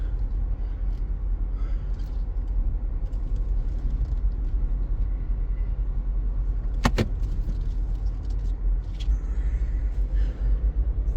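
A 2014 Chevy Impala on the road, heard from inside as a steady low engine and road rumble with tyre noise, a brief sharp click midway.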